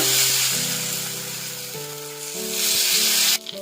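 Herbal dosa batter, made with ponnanganni greens, poured onto a hot griddle gives a broad, steady sizzle with a low hum under it, close and fairly loud, cutting off abruptly near the end.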